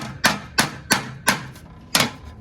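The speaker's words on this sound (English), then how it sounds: "It was dented in for some reason, so I'm gonna just carefully hammer it" Five evenly spaced metallic hammer blows strike a dented transmission pan from a 1987 Cutlass, each a sharp close knock with a short ringing decay, with no talk.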